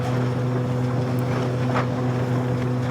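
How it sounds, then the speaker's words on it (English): A Fordson Major tractor driving a threshing machine at a vintage farm machinery hay and harvest event, heard as a steady low engine drone with a strong hum and continuous windy, rumbling background, loud and unbroken throughout. "Fordson Major just out of sight there driving the thrashing machine"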